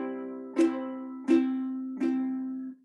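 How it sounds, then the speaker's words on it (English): Three even strummed downstrokes on a guitar, played in straight time at a steady pace during a lesson, each chord ringing out clearly and close up, alone with no talking. "Straight time sounds like this with just downstrokes."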